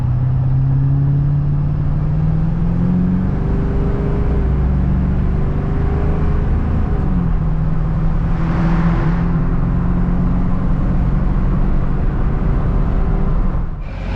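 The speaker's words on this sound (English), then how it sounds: "Truck's pulling real good. It's nice and smooth." Pickup truck towing a trailer on a drive around the block: a steady, loud engine drone with low road rumble and a smooth, even tone, with a brief swell of hiss partway through and no talking.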